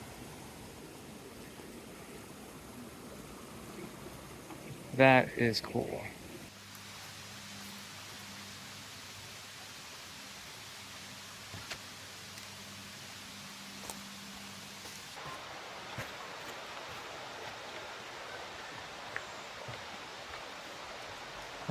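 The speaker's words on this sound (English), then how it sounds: "But here we go, here's the brook." A brook runs near the waterfalls of Purgatory Reservation in New Hampshire, making a soft, steady, noisy rush. A short spoken remark rises briefly over the water early on.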